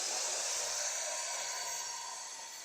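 A Dyson Pencilvac vacuum cleaner runs in a bedroom, giving a steady, bright, hissing whir that holds throughout and fades only slightly toward the end, with no talk.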